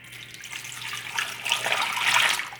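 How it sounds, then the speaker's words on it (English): Sauce poured from a container over chicken thighs and garlic in a crock pot, a steady close liquid splashing and trickling that builds slightly louder toward the end, with no talking. "Now I'm going to pour this over chicken thighs with the garlic that's in the crock pot."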